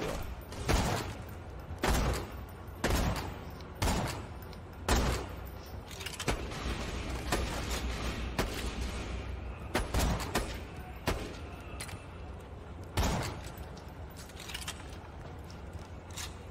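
Sniper rifle shots in a multiplayer video game firefight, a dozen or so sharp loud cracks at irregular intervals, each followed by a brief mechanical clatter, with game ambience between them.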